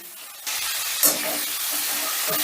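Chopped tomato stirred into hot oil with ginger, giving a steady close sizzle and hiss that jumps in after a quiet start, with a brief sharp spatter burst partway through.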